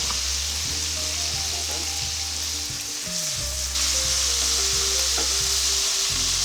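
Butter and spices, including smoked paprika, sizzle steadily in a hot pan for shrimp and grits, a constant loud fry with occasional stirring scrapes, with no talking.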